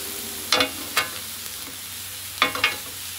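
A ribeye steak sizzles steadily in a hot pan, with a few loud scraping stirs or turns of a utensil breaking through the constant frying hiss.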